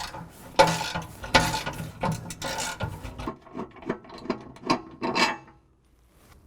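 Ratchet clicking on a 15mm bolt at the rear of a 2017 Ford Raptor's front skid plate, driver's side: a run of close, crisp mechanical clicks and short bursts that stop near the end.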